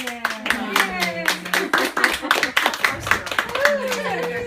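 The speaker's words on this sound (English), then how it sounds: "We got a clap." People clap their hands together at a wedding shower gathering, a quick burst of claps mixed with cheerful talk and laughter from the group.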